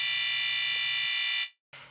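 A Massive X software synth oscillator set to the harmonics wavetable plays a sustained, bright, buzzy tone rich in overtones. The tone holds steadily, cuts off sharply into a brief silence, then a fainter burst follows.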